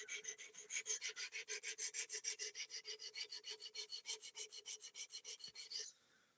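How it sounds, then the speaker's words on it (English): Elmax steel knife blade sharpened freehand, with steady rhythmic rasping strokes on a stone, about two per second, close and fairly quiet, ending abruptly. "I'm gonna practice freehand sharpening."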